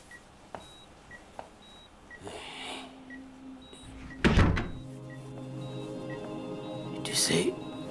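A door is pushed shut with a single solid thud in the middle of a quiet room scene from a drama series, while faint electronic beeps repeat in the background and soft rustles come and go.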